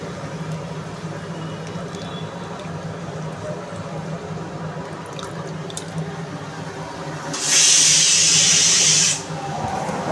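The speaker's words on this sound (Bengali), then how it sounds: "মাংসটা দিয়ে দিচ্ছি কড়াই।" Marinated meat goes into a hot kadai (wok) of fried spices. After a quiet stretch of low kitchen hum, a loud bright hiss bursts out for about two seconds, then drops back.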